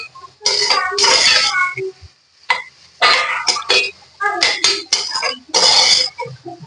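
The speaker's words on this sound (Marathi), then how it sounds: "आधी हे चांगलं परतून घ्यायचं आपल्याला" Onion and capsicum stirred in a pan, with repeated bursts of scraping and clinking as a utensil moves the vegetables around, separated by brief pauses; close and fairly loud, with no speech.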